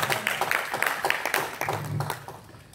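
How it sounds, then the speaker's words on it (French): A church congregation breaks into brisk applause for the Lord, many hands clapping together in a dense, steady burst that stays close and loud before tapering slightly at the end. "Acclamons encore une fois de plus pour le Seigneur"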